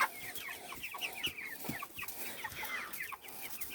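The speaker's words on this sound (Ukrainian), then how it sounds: "Вони зараз будуть дзьобати." Young chicks at a feeder peep and cheep constantly, with soft scattered taps as they peck at feed, at close range.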